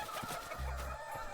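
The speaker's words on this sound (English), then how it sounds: "The scene is so chaotic that I momentarily can't tell whether it's Zayne or the chickens chasing me." Chickens clucking in the Love and DeepSpace video game, a short busy burst of fowl calls with a stronger cluck in the middle, close and moderately loud without speech.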